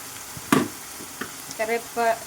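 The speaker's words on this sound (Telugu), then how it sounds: "ఇవంతా మంచి ఫ్రై అవ్వాలండి. ఫ్రై అయ్యేంత వరకు అయితే ఫ్రై చేసుకోవాలి." Spices and curry leaves frying in a pan for a spicy chicken gravy give a low sizzle with a sharp clatter, then a couple of brief vocal sounds near the end.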